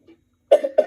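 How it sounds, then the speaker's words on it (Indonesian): Two quick, close coughs from a man on an online Zoom talk who is feeling unwell, following a faint short sound and silence. "Saya jadi sering-sering batuk, jadi ganggu mungkin semuanya."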